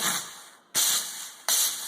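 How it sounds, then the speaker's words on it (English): Foot-pedal steam cleaner for cleaning jewelry at home, firing loud, sharp bursts of hissing steam from its nozzle, two near blasts starting abruptly with a fading hiss between them. "heats the water to create steam, which is going to come out of this nozzle here"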